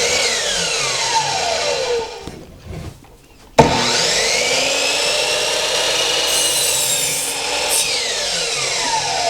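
A power saw cuts through wood pieces to length against a stop, a loud sustained buzzing whine that dips briefly as the blade spins down, then resumes with a sharp bite into the next piece.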